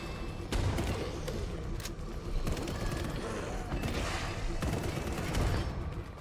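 Grenades and gunfire burst repeatedly in a twin-stick roguelite shooter, a dense, continuous barrage of loud blasts and crackling shots with no pause throughout.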